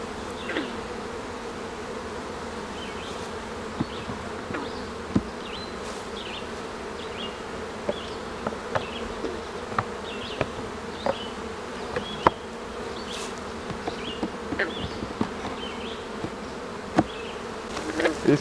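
Bees from an open beehive buzz steadily through the whole stretch, with a dense swarm drone and many sharp individual flights passing close by. No one speaks.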